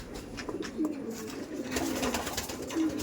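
Domestic pigeons at a breeding loft coo in soft, low, repeated calls, several overlapping close by, with faint background chatter.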